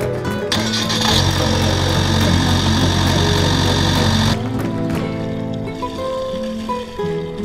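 A boat's engine idles steadily after repair of a leaking seawater cooling pump and a belt change, a loud even drone with a sustained whine that cuts off partway through, leaving a lower, quieter running hum.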